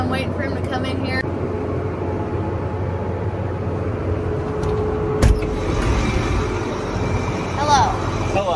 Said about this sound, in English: The truck's here.